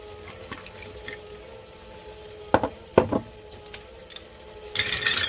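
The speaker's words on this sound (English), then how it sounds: "we're going to pour it over the ice, so that way it is cold" Bourbon is poured over ice in a glass: quiet, with a couple of sharp clinks and splashes midway, then a short burst of liquid at the end.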